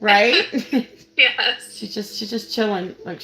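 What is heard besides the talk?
No distinct noise like a dog, phone or traffic.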